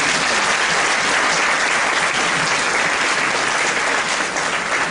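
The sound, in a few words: audience applause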